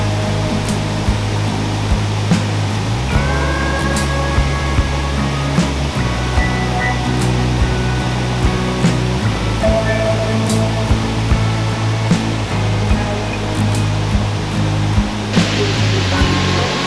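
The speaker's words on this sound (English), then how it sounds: "This is Horsetail Waterfall." Horsetail Falls in the Columbia River Gorge, a loud, steady roar of falling water filling the scene, with a faint low hum running underneath.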